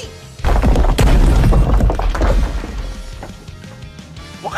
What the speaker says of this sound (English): I am an arch wizard who wields explosion.